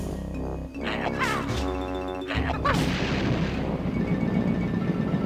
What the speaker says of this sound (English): Let's see if we can shoot an egg at this thing already.